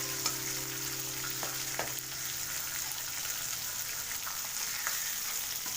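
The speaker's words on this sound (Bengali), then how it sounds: "মিডিয়াম টু লো ফ্লেমে মাছগুলোকে আমি মোটামুটি হালকা হালকা করে ভেজে নিচ্ছি।" Pieces of rohu fish fry gently in oil in a kadai over a medium-low flame, giving a steady, even sizzle with a faint hiss throughout and a few soft clicks from the pan, with no talking.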